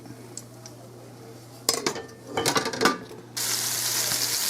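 A batch of chunky green tomatoes is dropped into a pan for frying. Utensil and pan clatter comes in bursts, then a loud steady sizzle takes over near the end.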